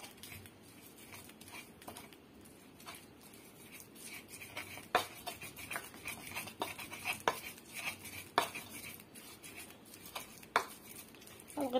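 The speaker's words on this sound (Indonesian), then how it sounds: "Ini tadi yang udah digoreng, kita ulek." Fried squid and chilies being ground and pounded with a stone mortar and pestle for spicy sambal, a steady run of close knocks and gritty scrapes that grows busier and louder toward the end, with no talk.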